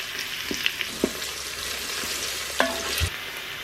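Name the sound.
onions sautéing in oil in a pressure cooker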